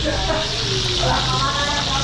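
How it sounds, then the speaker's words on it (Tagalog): Freshwater fish fries in a pan with a steady, close hiss and crackle of hot oil, continuous and fairly loud throughout. "nagpiprito na lang tayo ng isda"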